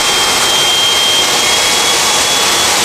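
A pet blower dryer with ozone runs steadily at about a quarter of full speed while a Persian cat is groomed, giving a close, continuous broadband whoosh with a faint high whine and no voices.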